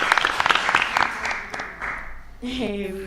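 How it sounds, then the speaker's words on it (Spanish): Crowd applause greets a guest on a live-streamed talk show, a dense burst of clapping that fades after a couple of seconds before a voice begins speaking. "Un aplauso para Testa."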